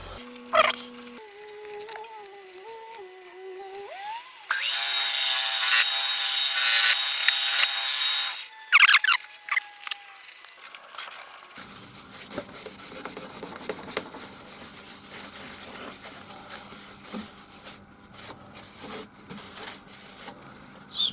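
A cherry live-edge bowl, thin-walled, being buffed on a lathe: a loud, steady broadband whirring rush for several seconds, preceded and followed by quieter tonal lathe hum, knocks and handling noises, with no talk.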